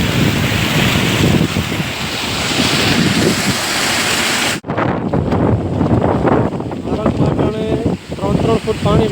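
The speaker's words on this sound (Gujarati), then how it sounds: "માથેથી ઓવરફ્લો થઈને પાણી જાય" Floodwater spilling over the top of a field embankment and rushing past during extremely heavy rain, a loud, steady roar of churning water with gusty wind buffeting the microphone and voices talking over it.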